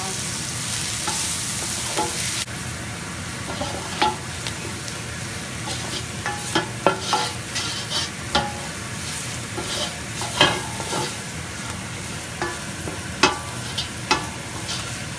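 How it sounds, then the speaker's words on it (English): A light flour roux sizzles in a pot for jambalaya pasta while a utensil stirs it, giving a steady frying hiss broken by repeated scraping strokes, close and clear without talk. "Now I'm gonna sprinkle about 2 tablespoons of flour into the pot."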